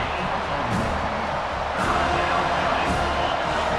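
Home crowd noise in EA Sports College Football 25, a steady broadband roar of a stadium crowd rising slightly in intensity, sustained throughout during a third-down defensive stand.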